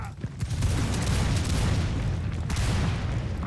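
Musket volley fire in the video game Mount & Blade during a line battle: a dense, continuous roar of overlapping gunshots and booms that stays loud throughout.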